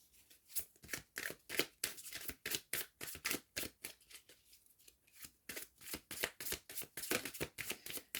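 Tarot cards slide, flick and tap on a table in a quick run of crisp, close papery bursts, some brief pauses between, no talking.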